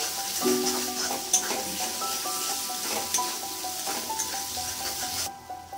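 Masala paste cooked down with yogurt in oil sizzles steadily in a pan, with repeated scraping and rubbing strokes of a spoon stirring it before the sound cuts away near the end.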